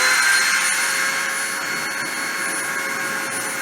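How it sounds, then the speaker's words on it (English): A machine spindle runs during a deposition pass with a 10 mm Y feed, giving a loud, constant broadband whir with thin, high whining tones and no letup. "I'm going to turn the spindle on and start the deposition."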